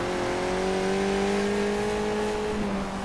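In a racing video game, a race car engine holds a high, steady whine that climbs slowly in pitch as it is pushed hard, loud and continuous with no voices.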